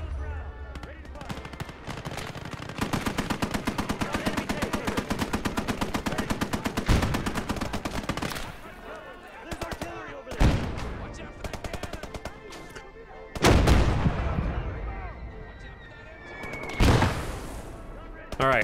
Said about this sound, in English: You're shooting at my half track. I have a 50 cal versus an MG34.